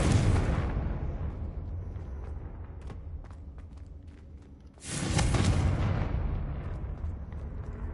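Confringo fire spell from Hogwarts Legacy on PS5 bursts twice, a loud booming blast at the start that tails off, then a second heavy explosion midway that rumbles and fades, with no talking.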